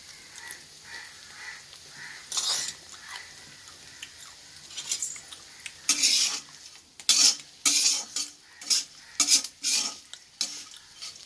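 Nethili anchovy dry fish being stirred while it fries in a pan, a spoon scraping and clattering against the metal in repeated bursts over a soft background sizzle, close and fairly loud.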